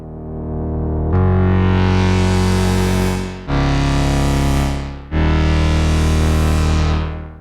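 Loud, rich Oberheim-style chords from the GForce OB-EZ software synthesizer swell in three sustained notes, each fading with a filter sweep, with thick distorted harmonics.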